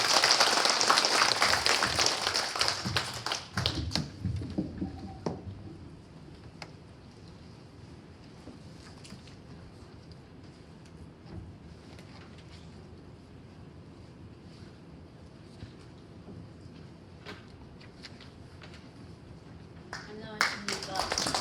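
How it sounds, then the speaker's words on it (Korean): Audience applause at an invited lecture on poetry, loud and dense for the first few seconds, then thinning to scattered claps over a quiet hall with faint murmuring, swelling briefly again at the end. "여러분 큰 박수 부탁드리겠습니다"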